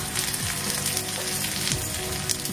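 Onion sautéing in a pan with turmeric sizzles steadily and close up, a dense continuous frying hiss with faint scraping stirs through it, no voices.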